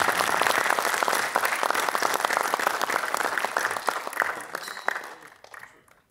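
An audience at the opening ceremony of the Sikhlens Sikh Arts and Film Festival 2024 in Chandigarh claps in dense, steady applause. It holds for several seconds, then gradually fades.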